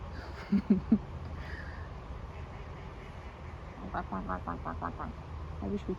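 Ducks quack in short bursts at a riverside, a few early calls then a rapid run of quacks near the end, over steady outdoor background noise.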